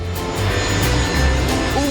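Passenger airplane engine in a video game, a loud continuous droning roar with low rumbling tones and a faint high whine, no voices over it.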